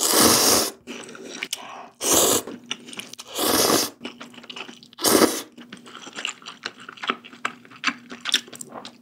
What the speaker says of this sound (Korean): 이제 면 먹어볼게요.